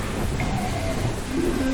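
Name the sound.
rain and thunder in Gibbous video game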